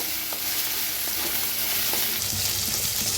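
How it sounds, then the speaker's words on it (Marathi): Onion with crushed ginger and garlic fry in a pan for a quick shev bhaji, a dense continuous sizzle close up with faint scraping stirs underneath. "कांदा छान असा भाजायला लागलेला आहे। सारखं हलवत भाजायचं"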